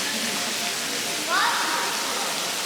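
Water in the Hubiku cenote sinkhole near Tulum, Mexico, gives a steady, full, rushing hiss like falling spray, with a brief faint squeak or voice midway.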